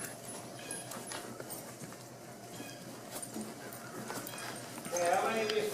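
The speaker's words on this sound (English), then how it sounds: "that horse took one stride at a canter and it dropped to a trot" Horse hooves striking the ground in an arena, one stride at a canter before breaking into a trot, a steady clip-clop under an instructor's voice, growing louder near the end.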